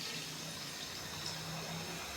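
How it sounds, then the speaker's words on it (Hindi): Water is poured from a mug into a pot of chicken feet cooking on the stove, giving a short steady splashing gush with a soft hiss over low background noise. "ये देखो दूसरा मग्गा भी डाल दूंगी"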